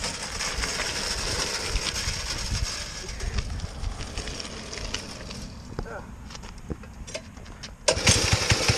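Briggs & Stratton animal racing engine pull-started and running: a loud, rough, close engine rattle throughout, easing off before a sharp burst near the end.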